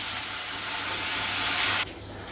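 Onions sizzle loudly in a pan as ginger garlic paste is added and stirred in for moong dal khichdi, a dense bright frying hiss that drops away abruptly near the end.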